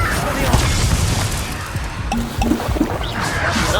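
Confringo spell explosions and combat in Hogwarts Legacy, heard as repeated dull booms and crackling impacts layered with busy game effects and a steady low rumble throughout.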